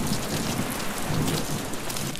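A thunderstorm in the Deadpool video game: dense, steady rain pours close and loud with low rolling thunder beneath it and no voices present.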